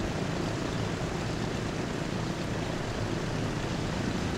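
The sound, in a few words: DC-3 aircraft landing in the video game Transport Fever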